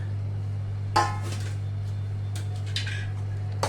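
A spoon stirs wheat kheer seasoned with grated nutmeg in a pot, making a couple of sharp metallic scrapes and clinks over a constant low electrical hum.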